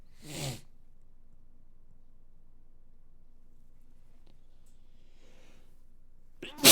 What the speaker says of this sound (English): There's your stream sneeze, by the way.